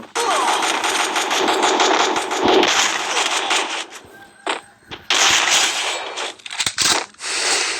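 Automatic gunfire in the Free Fire mobile game, loud rapid bursts that break off and resume in several strings, with brief gaps between volleys.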